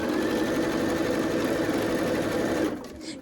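A sewing machine runs fast and steady while stitching a quilt seam, a close, continuous mechanical whir that stops abruptly near the end, with no one talking.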